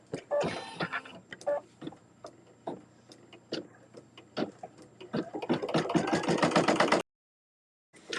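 Embroidery machine stitching an in-the-hoop pot holder, a rapid rhythmic ticking and clacking of the needle that builds into a dense mechanical whir before stopping abruptly.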